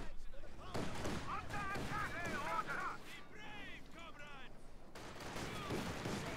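Gunfire from a Company of Heroes 2 match, bursts of shots and distant artillery under continuous talk from a commentator.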